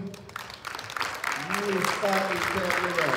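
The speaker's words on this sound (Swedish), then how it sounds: "Då en stor applåd till de" Applause at a Swedish wushu taolu championship for the youngest competitors, a steady broadband patter that builds and holds, with a voice talking over it throughout.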